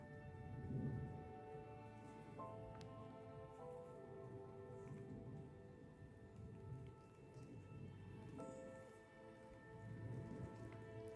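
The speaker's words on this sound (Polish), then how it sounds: "Zaczyna padać deszcz, ale to nie szkodzi." Steady rain patters down in a garden, with a soft continuous hiss of drops landing nearby, no voices present.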